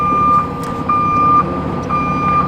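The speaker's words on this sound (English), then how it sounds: "this is what you hear, is just this beeping of trucks coming in" A truck's reversing alarm beeps loudly and steadily in evenly spaced tones over a low engine rumble, in a residential area of Porter Ranch, California.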